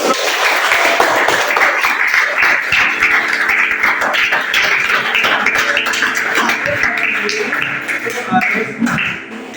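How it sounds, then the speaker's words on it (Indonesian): Scattered clapping from a small group in a classroom or training session, lively but uneven, with tones and taps mixed in and voices talking. "berikan tepuk tangan"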